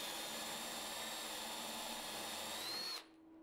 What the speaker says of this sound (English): I can drill through on my mark first using a 3mm pilot bit